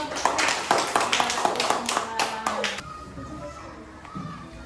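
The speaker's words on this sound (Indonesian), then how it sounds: "Tepuk tangan, kasih tepuk tangan" Schoolchildren in a classroom clap together for a display of bottle-cap flowers made from recycled waste, a quick burst of sharp claps lasting under three seconds, then fading into quiet chatter.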